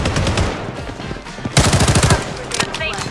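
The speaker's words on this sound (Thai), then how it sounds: "เดี๋ยวเราดักยิงตรงนี้เลยแล้วครับ" SCAR rifle fire in the online shooter Blood Strike: loud, rapid automatic bursts, close and punchy, with a brief pause between volleys and a player's voice speaking over parts of it.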